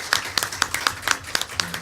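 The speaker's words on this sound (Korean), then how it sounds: "여러분들의 박수를 좀 부탁합니다." A small audience at a youth safety seminar claps. Individual hand claps are distinct and land in a loose, uneven rhythm, close and fairly loud.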